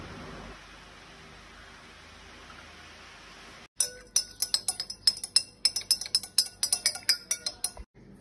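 A spoon clinks repeatedly against a glass while honey is stirred into lemon juice for a lemon and ginger detox drink, a quick run of bright, close taps following a few seconds of quiet hiss.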